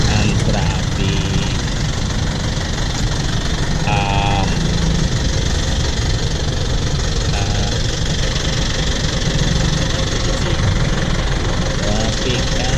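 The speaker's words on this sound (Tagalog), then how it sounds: "Bakit ang traffic?" Motorcycle engines idle in heavy traffic, a dense continuous rumble with knocking mid-range tones heard from inside a helmet, while occasional horn-like beeps sound on top.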